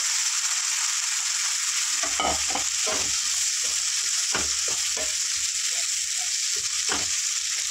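Broad beans tossed with curry leaves in a hot pan, a steady sizzle running throughout, broken by repeated scraping stirs from about two seconds onward, close and clear with no talking.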